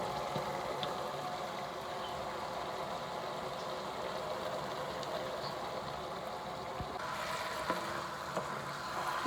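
Fried potatoes stirred into an aloo masala of spices and green chilli sizzle steadily in a pan, a close, continuous frying hiss with occasional scrapes and stirs.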